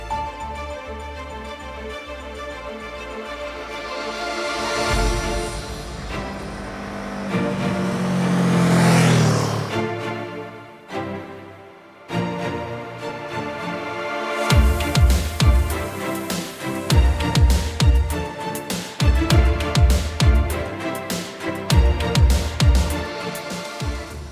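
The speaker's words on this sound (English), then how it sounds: "The Suzuki V-Storm 650 is a thoroughly well-engineered motorcycle. Being a V-twin, it has a lot of performance" A Suzuki V-Strom 650 V-twin motorcycle runs with a steady engine drone that swells and rises in pitch as it accelerates, then drops back before pulsing through repeated throttle blips and gear changes, loud and close.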